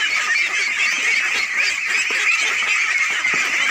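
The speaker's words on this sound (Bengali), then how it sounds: "600 হাঁসের একটি সমন্বিত খামার" Dense, continuous honking and quacking from a large flock of about 600 ducks on an integrated pond farm in rural Bangladesh, loud and close with no talking.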